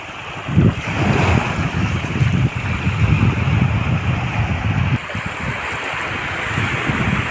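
Sea waves wash onto a Bohol beach at low tide, with exposed rocks and sand, making a steady, fairly loud broadband surf roar that continues throughout, mixed with wind buffeting the microphone.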